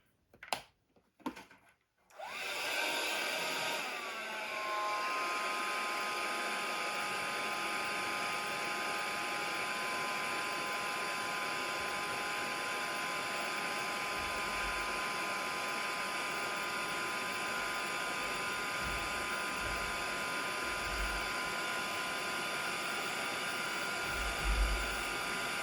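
A heat tool dries a mixed-media craft card. After a few clicks it switches on and blows a loud, steady whirring roar that lasts the whole clip, with faint knocks now and then underneath.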